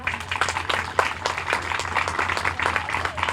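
Brisk applause from a small crowd at the opening of the PACE food pantry, many sharp individual claps close by in a lively, uneven rhythm, with no speech.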